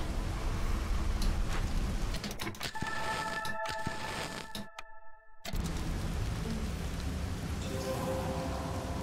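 Steady storm rain in the video game Against the Storm, a dense continuous hiss across the whole clip, with soft clicks and a brief tonal interface chime partway through, then a short near-silent gap before the downpour resumes.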